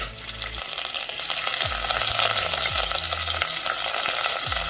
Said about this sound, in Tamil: நல்லா பொரிஞ்சு வரட்டும். இப்போ நம்ம துருவின இஞ்சி போட்டுடலாம்.